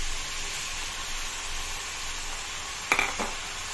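Spices sizzling in a frying pan before dalia goes in, a steady soft hiss with a brief clatter of a utensil near the end, no voices.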